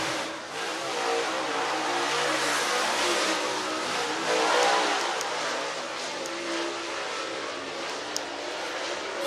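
Race cars roar down the back straightaway at Whynot Motorsports Park in Meridian, Mississippi, a broad continuous engine drone that swells and fades as the cars pass, heard from a distance.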